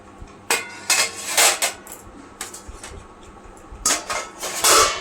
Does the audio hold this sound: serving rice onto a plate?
yes